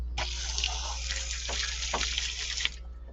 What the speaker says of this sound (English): I'm going to take a hose that I have here, and I'm going to go ahead and wet this guy down